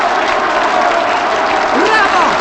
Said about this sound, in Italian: 92 minuti di applausi!